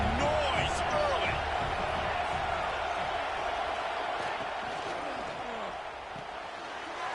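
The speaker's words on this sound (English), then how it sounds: "This crowd bringing the energy and noise early." A stadium crowd at a football game keeps up a steady, loud roar of broad noise, with a commentator talking over it the whole time.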